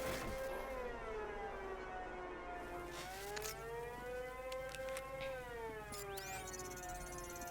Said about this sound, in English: I now head towards the sound of the siren